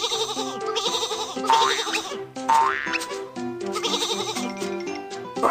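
Cartoonish sheep bleats from a children's train video game, several wavering cries over bouncy game music with springy boing effects, loud and close.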